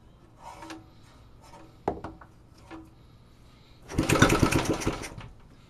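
A Briggs & Stratton 3-4 HP small engine gets a few brief pulls and sputters, then catches for a loud, rough second or so of running before it cuts out again.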